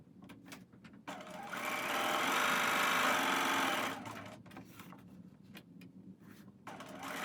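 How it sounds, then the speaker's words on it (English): A sewing machine stitches quarter-inch seams on quilt half square triangles, with a few short clicks, then a steady close whir of running for about three seconds, then quieter handling noises and small taps. "we're going to go ahead and sew a 1/4 inch on either side of our center line"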